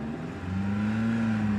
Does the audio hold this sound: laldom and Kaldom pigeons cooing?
no